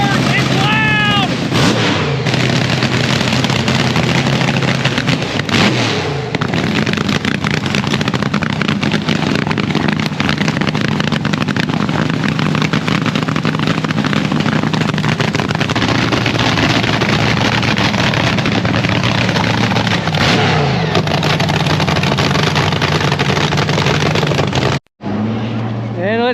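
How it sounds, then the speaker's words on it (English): Dragster engine at a drag demonstration during a street rod nationals event, a loud sustained roar with crackling bursts lasting nearly the entire stretch, cutting off abruptly near the end, with a voice talking faintly under it. "Looks like they're having a dragster demonstration out here. It's very loud."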